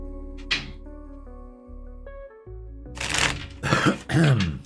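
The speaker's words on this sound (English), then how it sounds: "I just coughed for no reason" A person coughs and clears their throat a few times in quick succession close to the mic, following a quieter stretch of low steady tones.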